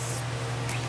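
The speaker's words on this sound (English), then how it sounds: "spraying a piece of fabric lightly with fabric guard" Two short hissing spray bursts of fire retardant onto fabric from a spray bottle, one at the start and one near the end, over a steady low electrical hum.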